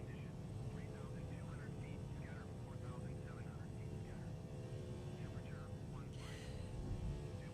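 An Airbus A340-300 in Microsoft Flight Simulator climbs out after takeoff with its gear retracting, a steady roar of engines droning throughout with a brief burst of mechanical noise near the end; a voice talks softly over it.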